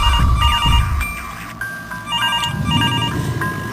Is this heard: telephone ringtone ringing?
yes